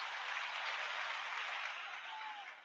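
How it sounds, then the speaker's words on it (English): An audience gives a band a round of applause, a fairly soft, even wash of clapping from a distance that holds steady and then begins to fade. "Go ahead and give them another round of applause."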